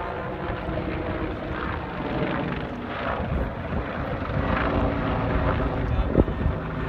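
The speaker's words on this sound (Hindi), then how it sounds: "ये देखो हेलीकॉप्टर जा रहा है।" A helicopter passes nearby, its steady rotor and engine drone mixing with gusty wind buffeting the microphone.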